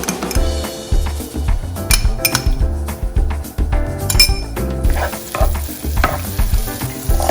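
Ginger and garlic paste hits hot oil in a pan, sizzling loudly in bursts while a utensil stirs and clinks against the pan, close up, with no talking.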